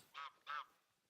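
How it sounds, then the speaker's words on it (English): Two quick goose honks in the video game theHunter: Call of the Wild, one after another, clear and nasal against a quiet background. "But these geese are annoying."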